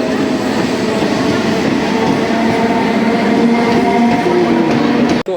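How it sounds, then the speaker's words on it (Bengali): A passenger train pulls out of Raniganj station in the evening. Its heavy, close rumble runs continuously with faint rhythmic wheel clatter, then cuts off abruptly just before the end. "তো ট্রেনটি কিন্তু ছেড়ে দিল,"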